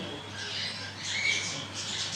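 A parrot at a zoo squawks in drawn-out, raspy screeches that rise and fall continuously, fairly loud over a steady low hum.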